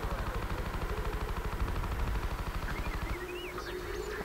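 Sustained automatic blaster fire from a Star Wars Battlefront 2 match, a dense rhythmic rattle of shots that thins out near the end as a few short electronic chirps come through.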